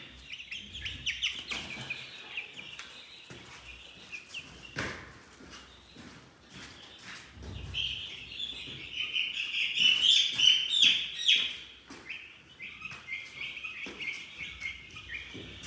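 Many small chicks, including Blue Columbian and splash chicks, peep high and thin in a constant chattering chorus from a box, growing louder midway, with occasional handling bumps nearby.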